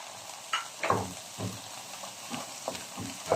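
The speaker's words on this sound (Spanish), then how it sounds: "así que vaya sofriendo" Ingredients for turkey stuffing, seasoned with pepper and salt, sauté in a pan: a soft steady sizzle broken by several scraping stir strokes and light clatters.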